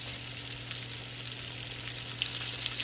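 Pickled squash frying in olive oil in a cast iron pan over medium heat, a steady close sizzle with a faint constant hum beneath, with no voices.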